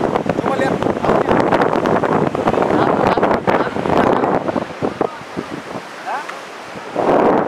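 Sea surf and strong wind at Wane Beach in Bima, loud and close with heavy wind buffeting on the microphone, waves washing in, and a voice speaking briefly.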